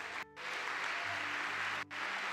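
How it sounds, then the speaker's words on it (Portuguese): A church congregation clapping for the Lord during a sermon, a dense, moderately faint wash of applause broken by two brief dropouts. "Você podia aplaudir o Senhor aqui hoje."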